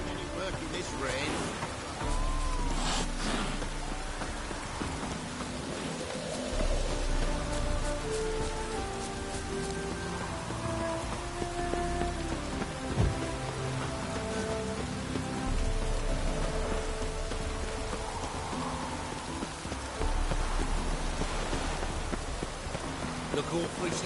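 Steady rain falling through a stretch of The Witcher 3, a constant hiss of drops on surfaces running beneath music and character voices talking throughout.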